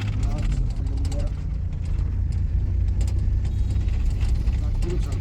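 Inside a manual car on a highway, a steady engine drone and road rumble continue as the driver clutches and shifts into second gear, with an instructor talking over it.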